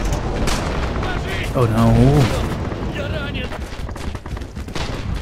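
Artillery fire in the World War II shooter Red Orchestra 2 during a forest battle, a continuous rumbling barrage of booms and gunfire with a voice briefly exclaiming over it.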